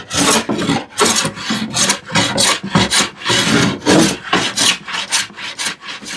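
A hand plane takes shavings off a wooden workpiece in a hand-tool workshop, loud rhythmic rasping strokes repeating about twice a second, close and alone.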